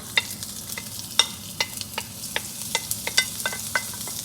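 Aromatics sizzling in a tablespoon of vegetable oil in a wok over high heat, a steady close hiss broken by frequent sharp crackles and spatula scrapes, with no voices.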